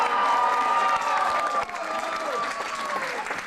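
A crowd at a climbing competition applauds and cheers for a climber, a dense burst of clapping and shouts that swells at first and then thins out slightly, with no talking over it.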